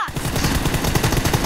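Rapid automatic gunfire from PUBG Mobile in a 2v2 team deathmatch, a dense, loud, continuous burst of shots rattling at an even fast rhythm.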